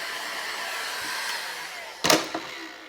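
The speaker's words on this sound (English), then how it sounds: "You're using a heat gun, you want to make sure you keep it moving." A heat gun blows hot air over paint with a steady, close whooshing hiss, then a few sharp knocks and clunks near the end.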